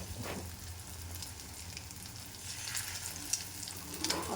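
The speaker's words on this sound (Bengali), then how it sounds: "ডিমটা আস্তে আস্তে দেওয়া আছে ডিমটা একটু পাকুক" Egg frying slowly in a pan on a home stove, a steady soft sizzle and crackle running throughout with a few brief louder pops near the end, fairly quiet and with no talking.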